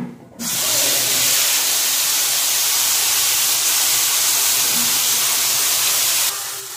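Ginger, garlic, onion, green chilli and tomato paste hitting hot oil with cumin seeds for rohu fish kalia, a sudden loud, sustained sizzle and hiss that runs steadily for several seconds before easing off.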